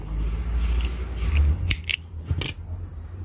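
Scissors snip through acrylic yarn during amigurumi crochet work, several short, close, crisp cuts at a quiet workbench.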